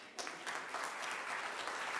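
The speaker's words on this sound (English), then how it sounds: "Round of applause." Audience at a St Johns talent show applauding, a sudden onset swelling into steady, dense clapping from many hands that carries on evenly without any voices.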